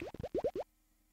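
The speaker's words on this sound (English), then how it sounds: "Bubbles." A quick run of five bubbly plops, each rising in pitch, pops out in rapid succession in the Freddi Fish underwater game, then stops abruptly into near silence.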